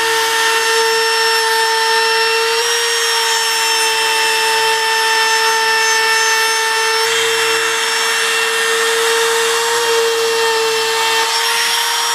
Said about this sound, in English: I'm going to put a chamfer on all the edges around here